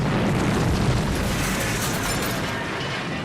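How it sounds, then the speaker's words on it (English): A pipeline explosion from the film Sorcerer roars as a loud, dense, sustained blast rumble with broad crackling noise that slowly tapers over a few seconds. "There's a pipeline, I guess 300 miles away, that explodes."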